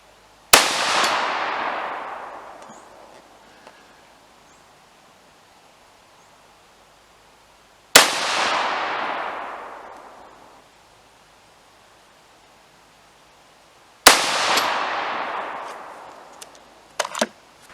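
Three single gunshots from a custom AR15 rifle in .223 Remington, each a sharp loud crack with a long decaying echo, spaced several seconds apart in otherwise quiet surroundings, with light handling clicks after the last.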